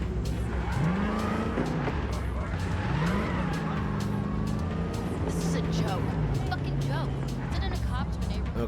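The Sport Vigilante car in Cyberpunk 2077 drives with a revving engine that climbs and falls through gear changes, mixed with tire squeals and skids, under game noise and talking.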